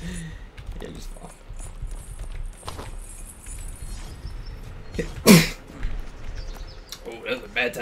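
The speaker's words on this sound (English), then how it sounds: "Oh, that was a bad time to sneeze." A single sharp sneeze bursts out loudly over game noise and background chatter while playing Chained Together, with people talking around it.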